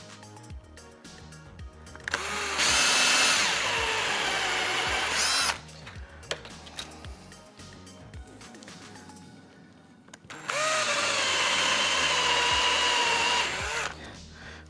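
A power drill bores a hole in a prop armour piece resting on scrap wood, running in two long, loud whining bursts up close, with a quiet gap between them and no talk.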